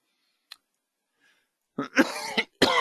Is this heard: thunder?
no